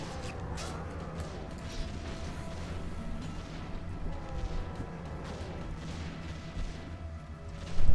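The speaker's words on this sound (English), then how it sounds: "fire tanks and mortars just working their way through" Fire tanks and mortars attack in a Warcraft 3 Azeroth Wars battle with dense, continuous rumbling blasts and crashing impacts, swelling into a louder burst at the end.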